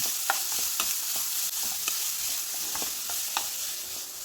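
Finely chopped onions frying in a pan for a chicken roast, with a steady sizzle and occasional sharp crackles and pops throughout, close and alone.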